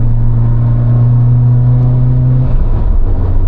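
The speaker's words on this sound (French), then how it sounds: "T'as un petit bruit sympa, l'échappement." A car exhaust drones loud and close with a steady low hum that shifts pitch near the end, with no talking.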